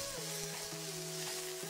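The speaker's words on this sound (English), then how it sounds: "Add 2 chopped onions. Let them fry for 2 to 3 minutes." Two chopped onions fry in hot oil in a pan, giving a steady, close sizzle for the whole stretch with faint stirring knocks and no talk.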